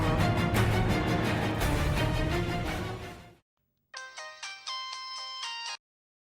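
A telephone ringtone chimes in several repeated bursts after a stretch of loud background music cuts out, the rings bright and fairly close with brief gaps between them.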